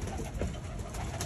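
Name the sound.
pigeons cooing in a cage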